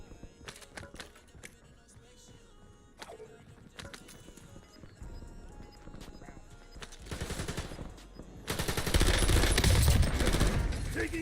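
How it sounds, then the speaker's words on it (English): Battle-royale shooter game combat where scattered single shots and short bursts build into sustained, loud automatic fire toward the end, with game sound effects and in-game voice callouts mixed in. "Taking effective fire!"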